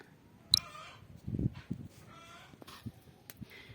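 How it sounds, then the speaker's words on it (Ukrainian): Faint chicken clucks and short squawks scattered across a quiet outdoor yard, with a few brief soft noises in between. "Радіють кури, пробралися шпигунами на подвір'я"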